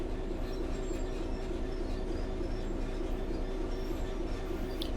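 Train running in the simulator game Train Sim World 3, a steady rumbling drone with a humming motor tone and faint rattles, constant and close, with no speech.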